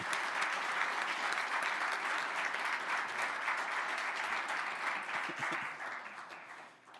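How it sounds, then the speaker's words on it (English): Sustained audience applause at the 2023 AIC Finals and Usibelli Award ceremony, a dense, even wash of many hands clapping that holds steady before tapering off over the last couple of seconds. "Can we get a big round of applause?"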